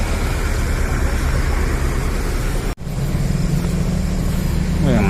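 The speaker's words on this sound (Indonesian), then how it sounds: "Mobil kencang semua tuh." Cars speeding along a quiet roadside by a souvenir shop on the trans-Sumatra road in Lampung: loud, continuous traffic roar from passing vehicles, a brief dip midway, then another vehicle sweeping close by at the end.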